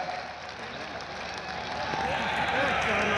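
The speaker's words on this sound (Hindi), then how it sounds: "एक बार पुनः जोरदार ताली बजाइए मेरे भाई के लिए।" A large crowd at an outdoor Sanatan unity march applauds with steady clapping that rises in strength toward the end, with voices mixed in.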